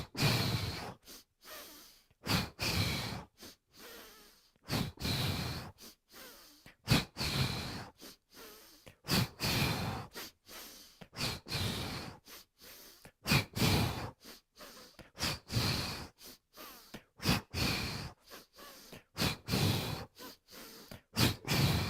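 Deep, rhythmic breathing during a strong full-body yoga flow, with long audible inhales and exhales repeating close up throughout, some ending in soft sighing huffs, and no talking.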